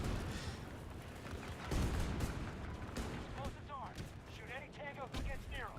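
Grenade blasts and gunfire roar through a chaotic Battlefield multiplayer match, a dense continuous wall of booms and shots with a heavy low thump near the middle, while someone talks over the din.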